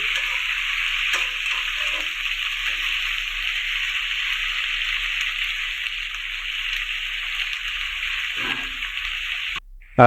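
Onion and tomato frying in a pan for chicken curry and being stirred, a steady loud sizzle running throughout with faint scraping movements and a short clatter at the very end.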